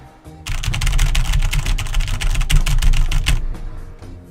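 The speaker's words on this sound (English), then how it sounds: "Your keyboard sound effects aren't quite in sync there, guys." Rapid keyboard typing used as a film sound effect, a dense run of sharp key clicks lasting about three seconds, loud and close, starting and stopping abruptly with no talking.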